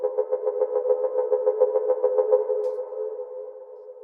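Synth patch with a triplet-eighth LFO retriggering a steady mono legato tone with glide, pulsing in a fast even rhythm for about two and a half seconds, then holding and fading, loud and alone without voices.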